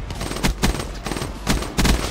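Rapid automatic gunfire from a gun in the video game Call of Duty, with repeated loud bursts of shots in quick succession, fairly close and continuous over a busy game background.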